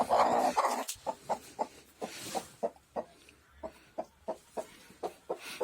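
A broody hen clucks in a slow, regular series of low, short pulses, close and alone after a brief louder burst at the start.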